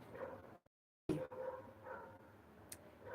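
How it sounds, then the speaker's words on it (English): Dogs bark somewhere outdoors, a few muffled yips and woofs over a murky background, interrupted by a short dropout of silence before the noise resumes. "Ooh, dogs are barking."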